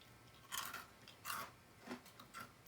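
Crunchy organic Cheerios-type ring cereal being chewed up close, in four or five short crisp bursts of crunching spaced across a quiet background, with no talking.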